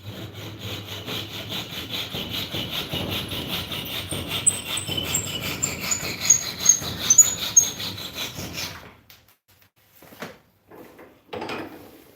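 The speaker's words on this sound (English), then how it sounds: "Trim a little bit off this handle because it's a little long." Hand saw cuts through a wooden axe handle to trim it shorter, a close rhythmic rasp of steady strokes for about nine seconds, then stopping, followed by a few faint knocks and a brief scrape.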